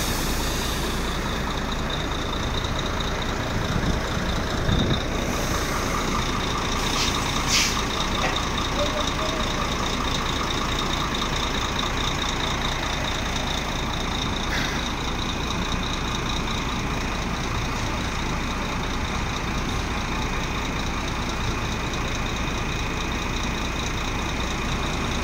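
Trucks rolling along the Transamazonian highway in Brazil, a steady continuous engine and road rumble that stays loud throughout, with no talk heard.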